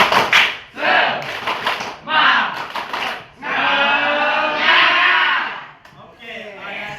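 A group at a senior high school in Sintang performs the tepuk semangat chant, with loud rhythmic shouted voices and bursts of clapping in several quick phrases close by.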